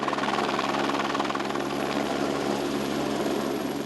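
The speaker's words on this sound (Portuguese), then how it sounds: "Na maioria dos focos, o combate só pôde ser feito com a ajuda de helicópteros." A firefighting helicopter working forest fires thunders overhead, its rotor chop loud and steady throughout with no other sounds.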